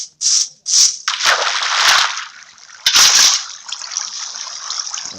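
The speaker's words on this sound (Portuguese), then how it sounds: "A gente pega daqui a água." A bucket scoops water in a Minecraft-like block game, with quick splashy sloshes followed by a longer, rushing watery gush, loud and close.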